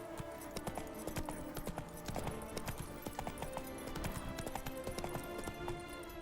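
Hooves of Geralt's horse Roach in the video game Witcher 3 clip-clop in a quick, steady rhythm, fairly faint and continuous, with ambient game background and no talk.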